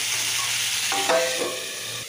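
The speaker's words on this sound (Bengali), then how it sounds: "একটু সাঁতলিয়ে নিই।" Drumstick vegetables stir-fried in a pan with turmeric and salt: a brief, steady close sizzle broken by one quick scraping stir.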